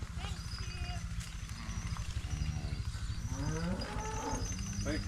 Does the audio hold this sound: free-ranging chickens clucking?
no